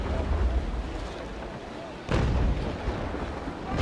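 A single deep boom of a ship's cannon firing a ranging shot in Naval Action during a frigate battle between the Trincomalee, Essex and Surprise, loud and close over a rumbling sea and wind bed.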